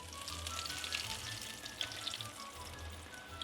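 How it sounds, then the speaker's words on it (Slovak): Schnitzels fry in hot oil for a Christmas dinner, giving a steady, dense sizzle with crackling pops and spits that stays loud and even from start to end, with no voices. "tak vlastne počúvaš vyprážané rezne"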